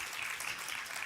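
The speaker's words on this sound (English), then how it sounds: "come on, applaud for that" Audience applause at a startup festival pitch competition, a steady, fairly soft wash of clapping that fills the whole moment with no talking over it.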